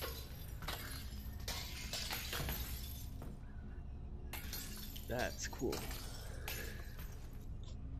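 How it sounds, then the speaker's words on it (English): Glass breaking in the VR game Half-Life: Alyx, several sharp shattering crashes with tinkling shards over steady game ambience, and someone speaks briefly. "can I break this glass?"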